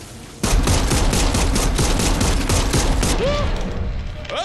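Gunfire in the video game Dead Island 2 erupts abruptly as a loud, dense volley of rapid shots, followed by a fading rumble and short whooshing effects.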